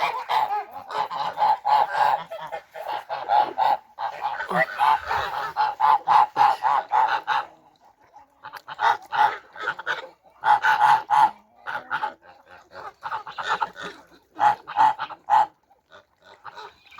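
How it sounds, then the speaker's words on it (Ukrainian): Geese honking repeatedly in loud, overlapping bursts, close by, with a few brief pauses between flurries of calls. "Гуси відійшли, бігом кури кинулися до корита."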